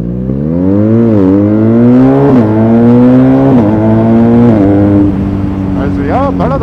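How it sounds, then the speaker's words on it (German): A BMW R1250RS motorcycle accelerates hard nearby through several gears, its loud engine note climbing and then dropping sharply at each upshift, with the exhaust popping between shifts. "Also ja, ballert auch schön beim Hochschalten."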